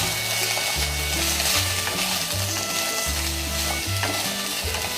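Potatoes fry and get stirred in hot oil for a potato and eggplant mash, with a steady close sizzle and rhythmic scraping stir strokes repeating throughout.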